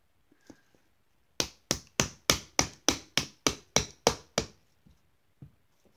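About a dozen sharp, evenly spaced hammer strikes on a hard plastic toy dinosaur egg, loud and close, with a few faint taps before and after.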